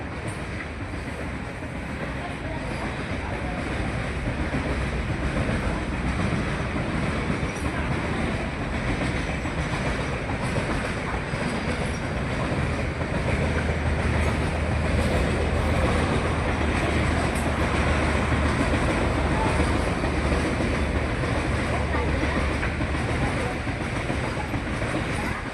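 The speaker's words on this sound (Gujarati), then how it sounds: "ટ્રેન નીકળી છે, તમને અવાજ સંભળાતો હશે." A train rolls past on a railway track right beside a temple, a steady rumble with clickety-clack wheels on rails holding loud and close for the whole stretch, with no break.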